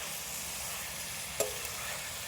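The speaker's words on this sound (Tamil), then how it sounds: "அஞ்சுலேருந்து ஏழு நிமிஷம் நல்லா வதக்கலாம்" Chicken sizzles steadily in an iron kadai over a wood fire, a faint continuous frying hiss with one brief scrape of stirring partway through.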